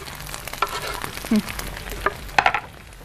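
Boiled potato filling for börek sizzles softly in a hot pan while a utensil scrapes and clacks against it in short, irregular strokes.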